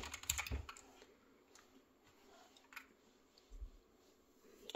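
Computer keyboard keys tapped while someone plays a game on a PC, giving soft, scattered clicks at low volume with a couple of heavier knocks, close by and with no talking.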